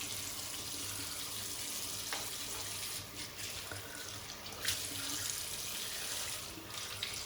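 Cold water runs steadily from a tap into a sink during a wet shave, a continuous close hiss and splash with small clicks over it.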